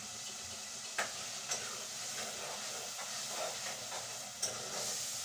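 Food roasting in a hot pan, a faint steady sizzling hiss with a few sharp clicks and scrapes as it is stirred.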